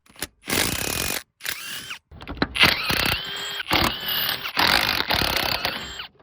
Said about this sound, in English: I'm actually going to put a longer extension on my impact, because I'm going to take the bolts out that connect to the transmission